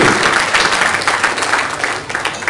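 At a live comedy show, an audience breaks into loud, dense, continuous clapping that gradually thins toward the end.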